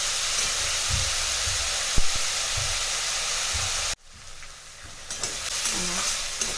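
Onions fry in a pan for egg baingan bharta, giving off a loud, steady, hissing sizzle with an occasional utensil clink. The sound drops abruptly partway through and then returns as a quieter, thinner sizzle.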